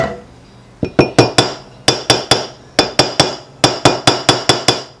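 Hammer tapping a grease seal into a trailer wheel hub, a close series of sharp metallic strikes in quick clusters of two to four, evenly paced and loud, with no talk.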